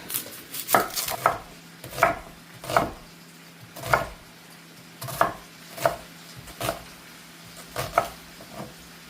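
Sausage being chopped on a board, a dozen or so sharp knife knocks in an uneven rhythm, close and fairly quiet, with no talking.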